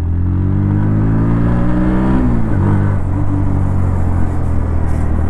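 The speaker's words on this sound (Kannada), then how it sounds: "Let's test this bike in the road." A 2024 Bajaj Pulsar NS125 motorcycle is ridden on the road. Its engine drones steadily, then rises through a rev change midway, heard up close over continuous wind and road noise.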